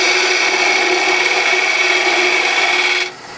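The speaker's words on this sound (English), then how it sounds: "I'll go to my fingernail grind gouge and I'll read my bevel and push." A fingernail grind gouge cuts ambrosia maple spinning on a lathe, giving a loud, steady, close rasping shave that runs unbroken for about three seconds before dropping off abruptly.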